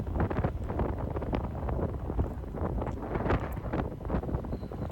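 High wind blowing outdoors on the Cornwall coast near Porthleven, a loud, continuous roaring buffet across the microphone that stays dense and unbroken throughout.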